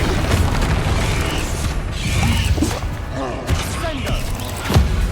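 In Hogwarts Legacy, casting the Protendo pulling spell produces creaking, mechanical whooshes and pops, several swirling bursts in quick succession over a busy, loud game soundscape.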